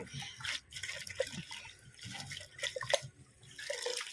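Fresh coriander leaves are washed by hand in water for a village-style pickle. Close splashing and dripping come in uneven bursts, with short pauses between handfuls and no talk.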